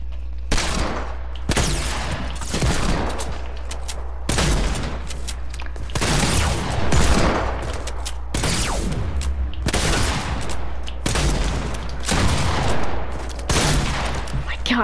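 Gunshots in a Fortnite free-for-all creative island match, a rapid series of loud, close bursts and single cracks firing repeatedly over a low steady hum.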